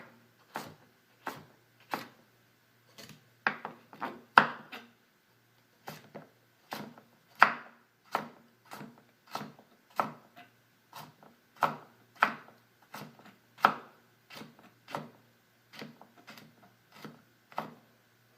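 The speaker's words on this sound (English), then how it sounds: "I'm done peeling and chopping the carrots." A knife chops steadily on a cutting board, sharp crisp taps in a regular rhythm with brief pauses, close up and alone.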